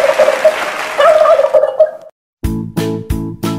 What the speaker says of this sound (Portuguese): Um peru!